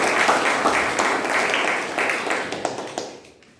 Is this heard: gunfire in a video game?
no